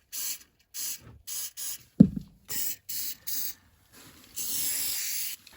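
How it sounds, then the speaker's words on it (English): Lysol disinfectant spray hisses from an aerosol can in repeated short bursts, ending in one longer spray, with a clunk partway through, inside a cabin with a mold problem. "let's grab the Lysol right here."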